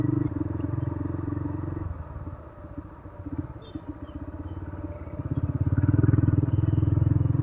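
A motorcycle on a relaxed solo ride in Makassar gives a steady, loud, low engine drone throughout. It eases off in the middle and then swells louder again near the end.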